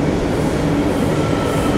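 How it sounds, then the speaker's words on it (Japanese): Loud, close rumble of a Buenos Aires Line A subway train arriving at a station, rolling along the rails in a steady continuous roar. "列車やってきました。"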